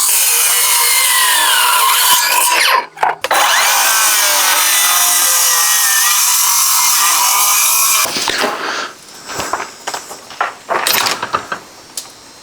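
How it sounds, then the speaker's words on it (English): A saw cuts through small wooden spacer shims on a gate, loud continuous rasping strokes close up, then a quieter stretch of scattered scraping and knocks. "we have to still cut our little spacers off"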